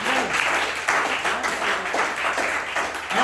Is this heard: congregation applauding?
yes